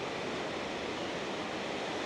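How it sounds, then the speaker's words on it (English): Ocean surf rolls against a rocky shoreline with no beach at Callao Salvaje, a steady, even wash of noise with no distinct breaks, moderately faint and unbroken. "so you can hear the waves now"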